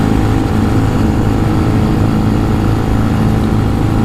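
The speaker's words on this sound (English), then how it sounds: "The engine's got a pretty decent note to it." Engine of a 2018 Benelli TNT 135 mini bike runs at a steady idle, a loud, close, even drone with a constant low buzzing note throughout.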